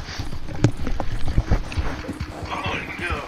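Horse hooves clip-clopping in a video game, a few uneven hoof thuds near the middle, with talking and background game noise around them.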